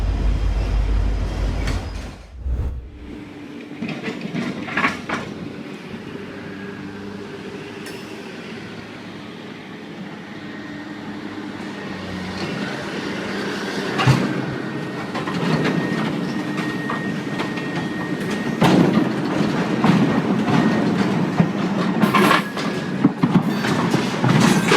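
A train rolls along the tracks at a road crossing, a steady rumbling clatter of railcars that swells louder toward the end, with sharp metallic clicks and squeals over the din.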